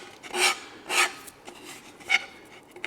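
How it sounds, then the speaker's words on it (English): A sanding stick scrubs fuzz from the cut edge of a part for a 1/48 scale Estes Soyuz booster model, with three firm rasping strokes followed by a lighter, shorter one, close up and alone. "I'll also use a sanding stick to take some of the fuzz off of the edge"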